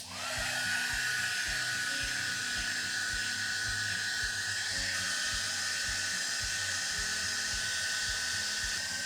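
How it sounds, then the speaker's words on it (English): A heat gun blows steadily across the top of a wax candle, giving a loud, continuous whirring hiss with a rhythmic low pulsing under it, running alone for the whole stretch. "With the heat gun on, simply move it around the surface of the candle in a quick circular motion."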